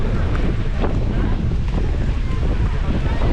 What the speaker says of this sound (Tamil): இவ்வளோ நேரம் சைலண்ட்டாக இருந்த ஏரி தண்ணி எவ்வளோ அலை அடிக்குது பாருங்கள்